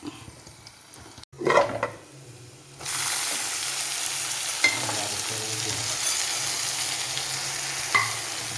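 Curry leaves drop into hot oil in a pan for a horse gram and banana flower thoran: after a soft clatter, a sudden loud sizzle bursts in and holds steady, with a few brief spits and pops.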